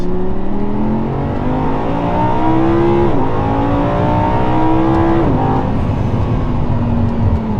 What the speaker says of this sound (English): The downshift sounds epic. Listen to this.